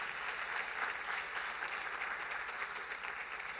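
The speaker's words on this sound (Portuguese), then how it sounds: "Você pode dar uma salva de palmas para Jesus?" A church congregation gives a soft, distant round of applause, a steady wash of clapping with no voices.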